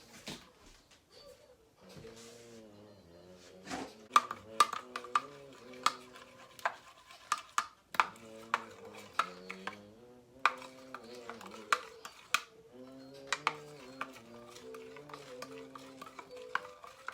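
Ingredients being mixed in a bowl with a utensil, producing a series of sharp clinks and scrapes in an uneven rhythm, close up, over soft background music.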